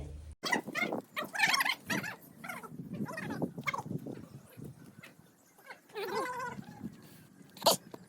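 Several village dogs being fed laddus on a festival day yip, bark and whimper in close, uneven bursts, with a few louder cries near the end.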